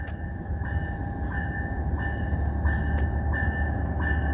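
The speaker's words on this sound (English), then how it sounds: "So what do we got for power on this train?" A CPKC passenger train with four coaches, led by locomotive 2216, rolls past at night heading from Alberta to Montreal. A steady rumble of wheels on rail carries through, with regular rhythmic clicks of the cars passing over rail joints, close and loud.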